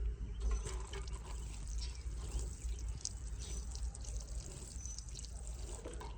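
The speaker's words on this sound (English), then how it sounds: "give it a quick water." Water pours steadily from a watering can onto freshly sown seeds in a garden pot, a continuous soft trickle and splash for several seconds with no talking.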